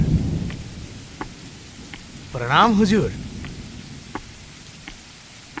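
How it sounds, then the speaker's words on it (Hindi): Steady rain pours with a low thunder rumble at the start, all through a Hindi film scene, while someone briefly speaks a greeting midway. "बारिश तो शुरू हो गई है"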